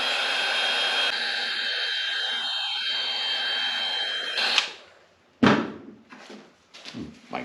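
A heat gun warms a fuel line on a Ski-Doo Rev MXZ 550F snowmobile, a steady close blowing hiss for several seconds that then cuts off, followed by a few clunks and handling noises.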